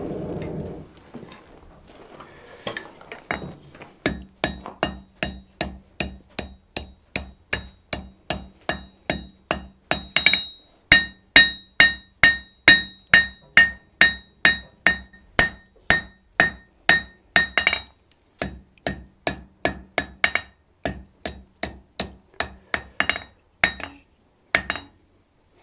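A blacksmith forging a reproduction 18th-century knife on an anvil, a long run of bright, ringing metallic hammer blows in a fast, steady rhythm with brief pauses between bursts, loud and close, with no talking.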